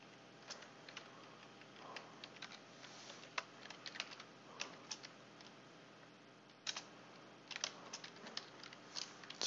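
Typing on a computer keyboard while coding, with irregular bursts of soft key clicks and brief pauses, fairly quiet against a steady low background hum.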